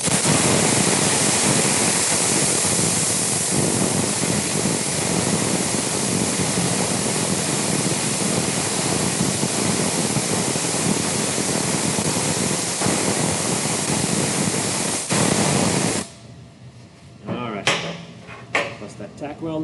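A MIG welder lays a 3F fillet weld seam on tacked steel plates, giving a loud, continuous crackling buzz for about fifteen seconds that stops abruptly, followed by a few faint clicks and taps.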